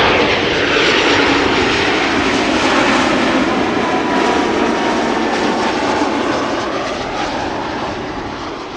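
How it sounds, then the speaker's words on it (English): A KLM Embraer 190 jet arriving at Amsterdam Schiphol from Brussels roars loudly and steadily overhead with a broad engine rush, slowly fading toward the end. "KLM arriving from Brussels, Embraer 190."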